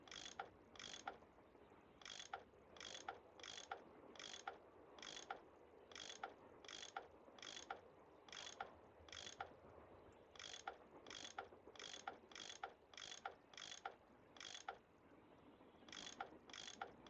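A tool unscrewing bolts in a Nancy Drew video game gives a steady run of quiet, evenly spaced ratcheting clicks, about one and a half per second, with only brief pauses.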